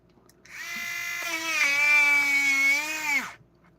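A Dremel rotary engraver tool whirs steadily for about three seconds, producing a high, harmonic-rich whine. The pitch rises slightly as it spins up and stays steady before it stops, heard close with no talking.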